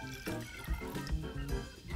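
Water pours into a pan with brown sugar for making granola in a kitchen, a quiet, close, continuous liquid splash and trickle for a couple of seconds with no voices.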